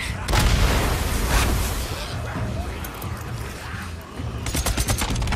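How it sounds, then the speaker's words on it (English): A grenade explosion in the video game Days Gone gives a dull boom with rumbling aftermath, followed by scattered crackling bursts like gunfire, heard amid game noise and a speaking voice. "Fucking grenade out."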